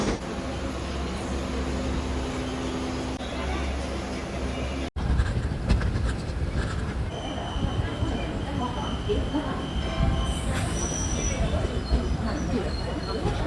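A passenger train runs on rails during a family trip with two kids, producing a steady low rumble with rattling carriage noise and faint wheel squeal, a brief cut partway through, and soft background chatter.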